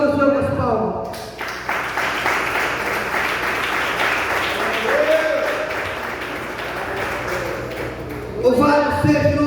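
A church congregation applauds during a sermon, dense clapping that swells in the middle and fades, with a voice speaking over it at the start and end.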